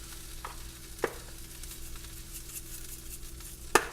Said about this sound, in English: our pan sprayed up nicely, and add the potatoes.